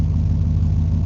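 A well-worn V8 in a 1994 Ford F150 idles steadily just after new spark plugs were fitted, a loud, close, even low rumble with no talk over it.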